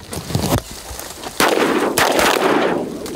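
Shotgun blasts outdoors during a crane hunt: several loud, sharp booms in quick irregular succession, each trailing off in a brief rolling echo.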